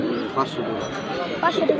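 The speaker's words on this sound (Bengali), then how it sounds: "দেখেন কবুতরগুলা" Pigeons coo softly a few times, short low warbling calls nearby, with people talking in the background at a weekly pigeon market in Lauhati.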